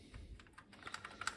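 Fingers tap out a quick, uneven run of keystrokes on an Amstrad CPC464 home computer keyboard with memory expansion. The clicks are fairly quiet and close, with no talking.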